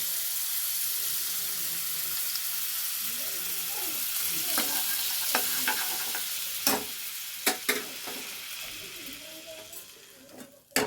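Butter sizzles and crackles steadily in a hot pan for paneer navratan curry, a constant close frying hiss with a few sharper spits and clatters toward the end; no one speaks.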